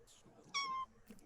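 A small kitten gives a single clear, high meow, close and isolated, with faint background noise around it.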